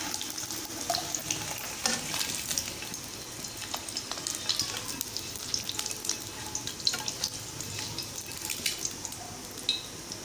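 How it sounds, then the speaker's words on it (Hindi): Onion browning in a pan for an egg and chickpea curry, a steady sizzle broken by frequent stirring scrapes and crackling pops throughout. "ये देखिए प्याज भुन रही है"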